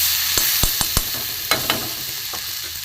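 Spice paste of turmeric, chilli powder, grated ginger and ground cumin-coriander sautés over low heat in a pan with a constant bright sizzle and a few crisp scraping stirs.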